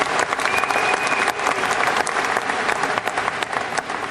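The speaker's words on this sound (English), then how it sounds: "I like to hear that applause." Steady applause from an audience after a speech excerpt, a dense, continuous wash of clapping at even loudness throughout, with no voices on top.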